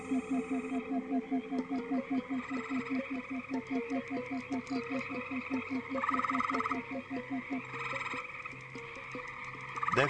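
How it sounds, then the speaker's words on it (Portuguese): Green frogs croak along a lake shore, a loud, rapid pulsing chorus of many close calls repeating in steady rhythm, with other frogs overlapping in the background. "Devem se unir de 15 a 20 machos em torno do lago, coachando e esperando desesperadamente que a fêmea atenda ao chamado."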